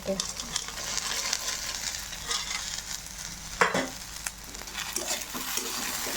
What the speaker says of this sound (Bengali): আমরা হলুদ আর লবণ দিয়ে ভেজে নিচ্ছি।